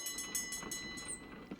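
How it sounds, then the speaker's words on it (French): A high-pitched tram bell rings in a quick series of bright, repeated strokes, moderately loud and alone. "Là, le tramway est jeune."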